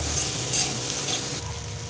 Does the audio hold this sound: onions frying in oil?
yes